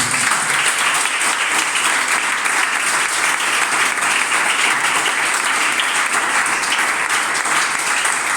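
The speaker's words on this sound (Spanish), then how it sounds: "Den un fuerte aplauso al Señor." A church congregation claps loudly and steadily for the full stretch, a dense, continuous wash of applause with no voices standing out.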